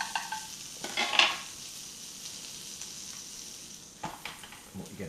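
Butter sizzles in a pan alongside steak, a moderate steady hiss with clinks and scrapes of a utensil near the start and end; no voices are heard.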